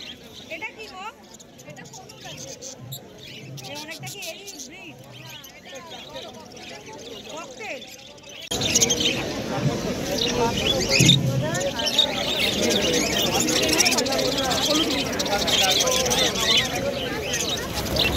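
Small Bengalese finches chirp in thin, busy tweets at a crowded Kolkata bird market, with other caged birds and a hubbub of voices around them. After a few seconds the background grows louder and denser while the chirping continues under people talking.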